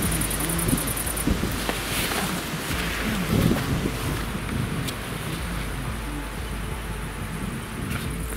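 Wind gusts buffet the microphone outdoors in Tajikistan at nightfall, a steady rushing roar with occasional louder bursts, no talking.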